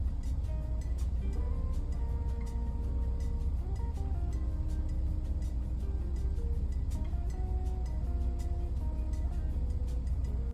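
A car engine idling, heard from inside a cabin fitted with foam sound deadening over butyl mat on the floor pan, giving a steady low rumble with a muffled hum that stays even and continuous throughout.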